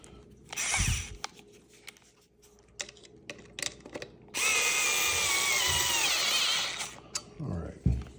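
A power drill backing a screw out of a homemade rod holder for bank fishing: a few short clicks and handling knocks, then a steady whirring drill run of about two and a half seconds, close and loud, with a low voice briefly.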